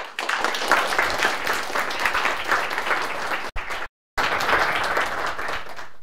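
An audience welcoming speaker Eric Tate breaks into loud, sustained applause, steady clapping that cuts out briefly near the middle, then resumes just as strong.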